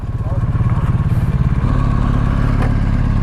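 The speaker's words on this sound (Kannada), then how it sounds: "ಆರೋ ಕೇಳಿಸುತ್ತೆ, ಐಡಲಲ್ಲೇ ಜಾಸ್ತಿ ಇದೆ ಮಗ ಅದು." Up close, a motorcycle with an Arrow exhaust idles in a loud, even low rumble that holds steady for a few seconds, with a faint voice briefly present.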